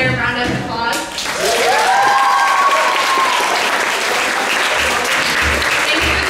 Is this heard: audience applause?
yes